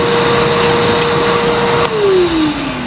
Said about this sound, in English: so if I turn the vacuum on